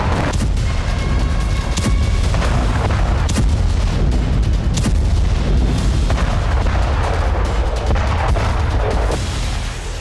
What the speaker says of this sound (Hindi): इजरायली एयरफोर्स ने उत्तरी गाजा के बेत हनून में जबरदस्त हमले किए।